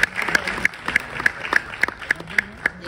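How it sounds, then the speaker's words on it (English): Clapping from an audience at a healthcare summit, a brief spell of applause with distinct individual claps rising out of the crowd at an even pace. "Please give her a huge round of applause."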